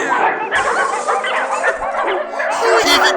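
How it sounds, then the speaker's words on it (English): Several dogs barking and yipping in a video game, rapid overlapping yaps and whimpers close and loud, continuous across the clip. "They just keep barking! They've been barking for hours!"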